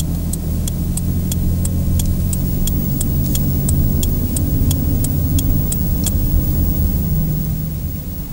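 Steady loud road rumble and engine drone inside a car towing a caravan, with a large vehicle passing alongside and a regular ticking, likely an indicator, running over the noise.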